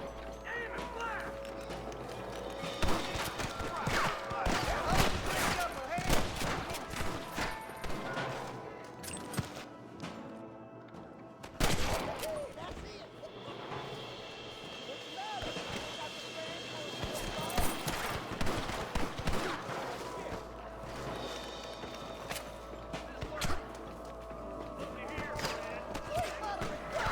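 Sharp gunshots ring out in scattered volleys during a Red Dead Redemption western firefight, clustered in bursts and mixed with shouting voices and game ambience.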